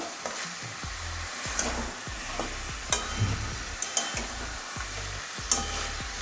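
A spoon stirs chicken coated in Kashmiri red chilli powder in a pan, giving steady scraping and a low sizzle, punctuated by several sharp knocks of the utensil against the pan, with no talking.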